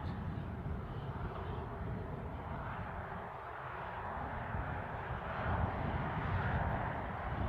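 An airliner inbound from Malaga on final approach at Newcastle International Airport, heard as a steady, low engine rumble at a distance that swells slightly near the end, with no speech.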